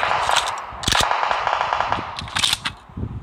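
Gunfire in the mobile battle royale game BGMI on the Livik map: bursts of sharp shots, close and loud, with a dense cluster near the start and another around the middle, over steady game background noise.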